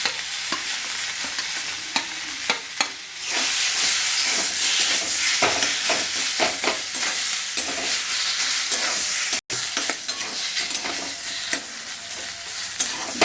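Banana flower and potato fry in a pan, loud continuous sizzling with frequent scraping stirs close to the mic.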